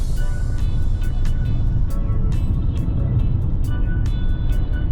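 A Mercedes-Benz E220d W213 diesel estate on a test drive gives a steady low road and engine rumble with intermittent clicks and ticks, heard from inside the car with no talk.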